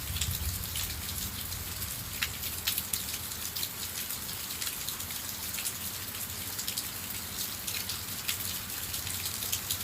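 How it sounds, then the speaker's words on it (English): Steady rain patters and hisses outdoors in Florida, a dense continuous wash of drops that sounds spread out and somewhat distant, with no voices. "I can hear rain coming again."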